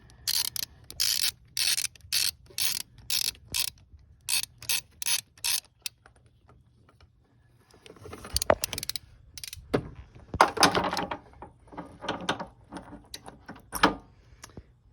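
Socket wrench with extensions working an oil pressure sensor loose on a 2005 Chevy 2500: short bursts of rapid ratchet clicking, then a pause and scattered metallic clanks and scrapes of tool handling, close and moderately loud, no talking.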